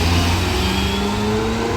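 A Lamborghini SV Roadster sports car revs on the street in Monaco during the Grand Prix weekend, with a loud, close, continuous engine roar and a slowly rising pitch.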